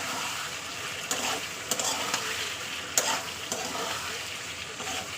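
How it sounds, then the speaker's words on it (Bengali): Tomato and green chili stir-fry in a pan for a spicy Bengali dish, a steady sizzle with intermittent sharp scrapes and taps of the spatula. "এবার এর উপরে আমি টমেটো আর কাঁচা লঙ্কাটা দিয়ে দেবো দেওয়ার পরে আবার কিছুক্ষণ কষাবো"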